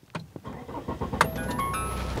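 A 2010 Volvo XC60 2.4 D5 twin-turbo diesel with AWD cranks briefly and fires, then settles into a steady, close idle with a faint high whine, and no one speaks.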